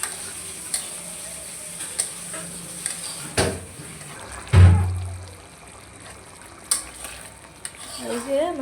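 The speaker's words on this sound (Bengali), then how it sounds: "ট্যাংরা মাছটা ভালো করে কষায় নিব" Tangra fish sautéing in a pan, a soft steady sizzle with stirring scrapes and occasional clinks of a utensil against the pan, including one louder knock midway, close by.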